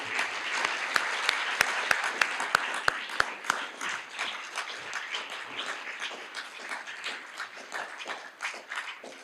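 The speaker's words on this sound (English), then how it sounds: "please join me in a round of applause for Dan and Barb." An awards ceremony audience breaks into sustained, full-room applause for honored alumni at a college of business event, dense clapping with a few sharp nearby claps early on, tapering slightly toward the end.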